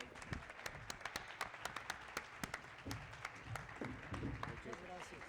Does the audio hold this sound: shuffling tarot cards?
no